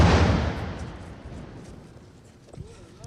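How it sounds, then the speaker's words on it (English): Artillery shelling near a school in Gaza produces a heavy, booming blast that rumbles and fades over a few seconds, followed by faint distant thuds and brief bits of voices. "after we just heard a new shelling, it's close to here"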